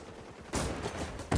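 Rapid automatic gunfire from XDefiant, a shooter game, fired through cover. A quiet, low rumble gives way to a loud, dense stream of shots about halfway in, and a sharper, louder burst hits right at the end, with no talking.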